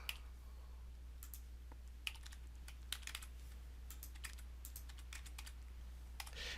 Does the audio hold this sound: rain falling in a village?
no